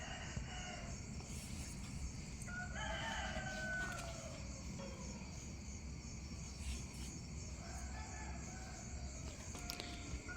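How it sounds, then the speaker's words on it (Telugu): Roosters crow in a village in the early morning, several drawn-out calls rising from mid-distance over a steady hum of crickets and insects, with no talking. "మేము ముగ్గేస్తుంటే కోళ్ళు కూడా కూసేస్తున్నాయండి."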